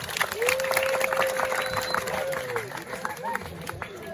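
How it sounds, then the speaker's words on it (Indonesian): Audience applauds youth performers at a ceremony outside a Balinese temple, a steady patter of clapping from a crowd with a voice speaking over it. "ngiring tepuk tangan ring para pemuda sami"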